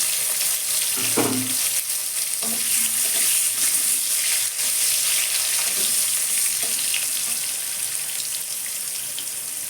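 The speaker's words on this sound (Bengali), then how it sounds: "বেগুনটা আমি ভেজে নিচ্ছি বেগুনটা ভেজে নেব" Eggplant pieces fry in hot oil in a home kitchen, a steady, close sizzle broken by a few clinks and scrapes of a spatula turning the slices, with no voices.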